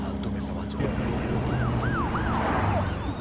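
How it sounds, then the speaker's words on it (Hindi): A police car siren wailing in repeated rising and falling sweeps over steady traffic rumble, loud and continuous as the vehicle draws near on a street. "पुलिस की गाड़ी आ रही है, नीचे छुप जाओ।"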